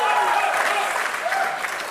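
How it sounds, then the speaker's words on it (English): Loud crowd cheering and applause from spectators in the stands at a men's 10m air pistol World Cup shooting final in Bhopal, India, a sustained roar that holds steady and then eases slightly. "That's a loud cheer for Tomar's 10-4 and Singh's 10-3."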